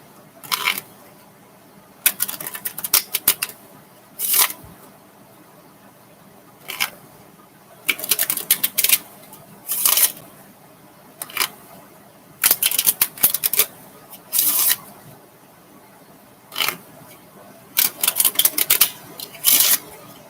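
Tarot cards are shuffled in a quiet room, riffling in a string of short crisp bursts of card flutter and slaps with brief pauses between them, close by and with no one speaking.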